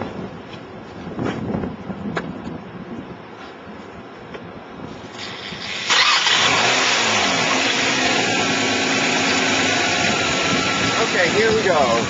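A running car engine has Seafoam Deep Creep sprayed in through a removed hose; it runs steadily, quieter at first, then jumps to a louder, rougher roar that holds to the end, with some talk early on.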